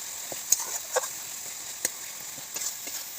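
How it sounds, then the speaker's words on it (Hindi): Oil frying for a fish curry, sputtering with a steady close sizzle broken by sharp scattered pops and crackles, with no voices over it. "तेल फुटी ऊपर उठला"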